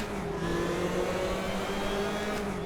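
A car engine in the racing game RaceRoom, at Pau circuit, revs steadily at high pitch with a smooth, droning whine, close and continuous throughout.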